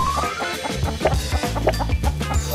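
A chicken clucks in a short series of quick, close, irregular calls over a busy background in a game-style setting.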